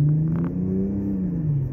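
A 2001 BMW 325i E46 with its 2.5-liter six-cylinder engine, heard as a close, steady low engine drone with a gently rising and falling pitch, alone and without talk.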